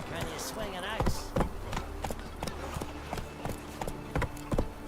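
Roach, the horse in The Witcher 3, gallops with a steady run of hoofbeats, sharp thudding strikes repeating at a quick rhythm beneath background game audio, fairly close and moderately loud.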